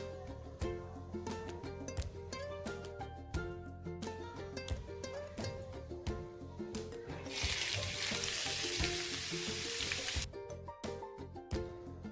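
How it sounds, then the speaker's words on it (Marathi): Onions and four or five garlic cloves sizzle in a hot pan while being stirred toward golden for chole masala. The frying is steady under soft background music and swells into a louder hiss midway. "आपल्याला कांदा आणि लसूण सोनेरी रंग येईपर्यंत परतून घ्यायचे आहे"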